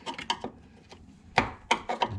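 A screwdriver pries and grinds against the door of a 1989 Ford Mustang GT Foxbody, giving several short scraping, creaking strains in uneven bursts, close and fairly loud.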